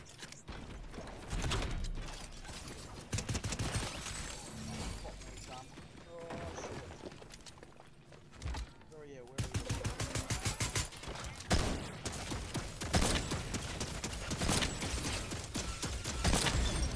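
A turret blown up in Fortnite: a dense run of mechanical clatter, shattering crunches and rapid gunfire-like bursts, loud and continuous, with a sharp cut midway into another barrage, while a voice talks over parts of it.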